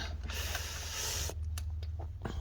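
A ratchet tightens a bolt on a 2007 Honda Odyssey engine during a timing belt and water pump job. Rapid clicking runs close and loud, then breaks into a few separate clicks and pauses.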